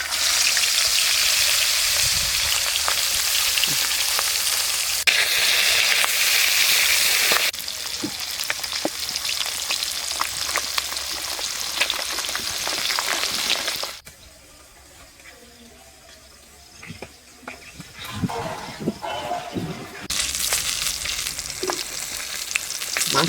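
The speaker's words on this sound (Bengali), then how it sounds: "এবার মাছগুলো ভেজে নেব।" Pieces of large bhetki fish fry in oil with a loud continuous sizzle, which drops sharply midway as a piece is flipped or the heat shifts, then rises again, with occasional spatula clatter.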